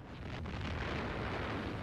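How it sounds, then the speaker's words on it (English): Deep, rumbling explosions as the German battleship Tirpitz is bombed and capsizes, a continuous heavy roar filling the whole short stretch without any talk. "In the smoke of giant explosions, the Tirpitz capsizes and sinks"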